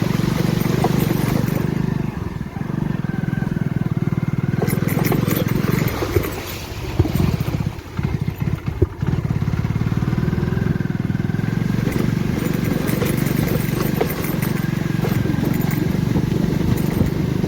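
A motorcycle engine idles and revs unevenly nearby, briefly sputtering and dipping mid-way before picking back up as it nearly stalls on a waterlogged rural road, with outdoor background noise.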